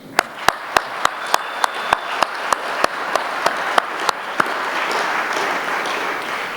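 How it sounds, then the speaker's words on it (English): Audience at a Nowruz celebration in the New Zealand Parliament applauding the MC: a steady beat of sharp, regular claps near the front, with general applause building beneath them into a full wash. "we'd like to give a big round of applause to our wonderful MC, my good friend, Mohsen"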